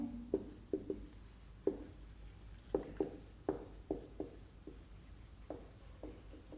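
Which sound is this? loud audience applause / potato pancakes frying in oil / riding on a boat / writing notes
writing notes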